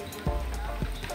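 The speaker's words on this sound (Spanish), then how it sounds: "Aquí en Mil Maneras de Bañarnos tenemos la lluvia" Steady rain falls outside a camper van, a continuous soft patter with a few heavier drops thudding nearby, and no talk over it.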